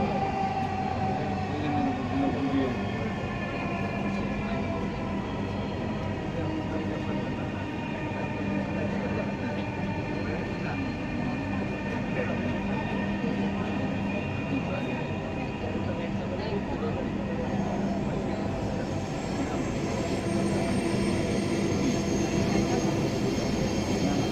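A Dhaka Metrorail train rumbles steadily along the rails, a continuous loud drone with faint wheel squeal, while a recorded voice announces the next station over it.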